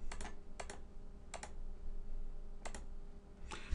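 Soft, quick clicks of keys being tapped on a Windows Phone touchscreen keyboard come in small paired bursts separated by short pauses, faint and close against a quiet background hum.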